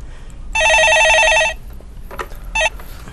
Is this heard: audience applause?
no